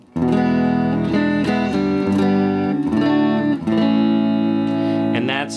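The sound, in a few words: guitar through solid state amp, dry tone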